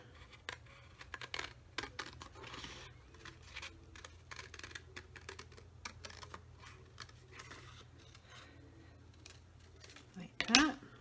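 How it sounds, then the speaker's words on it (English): Scissors cut out a paper envelope pocket in a series of quiet, scattered snips close by, with soft paper handling between cuts and a sharper rustle near the end. "we're just going to cut this out"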